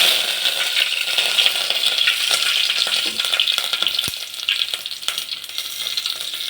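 Curry leaves go into oil already crackling with mustard and cumin seeds, producing a loud, continuous spitting sizzle with scattered pops and light rattling, close and steady throughout.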